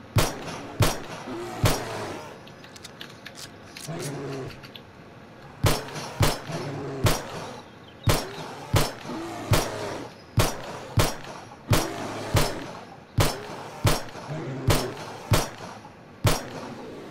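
A gun fired at a bear in the survival game 7 Days To Die: about twenty sharp, loud single shots, some in quick pairs, spaced a second or so apart with quieter rumble between.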